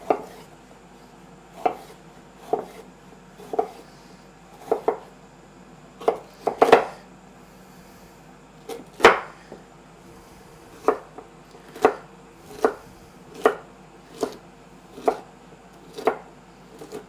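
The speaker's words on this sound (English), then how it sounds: "And I'll just cut those into little cubes." A knife chops food into small cubes on a cutting board: a steady series of about fourteen sharp, evenly spaced thuds roughly every second, close and crisp against quiet kitchen ambience.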